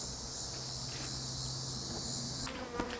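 Carniolan honey bees buzz near a hive during open feeding, a steady, faint drone of many insects that holds evenly, then a few brief rustles and knocks near the end.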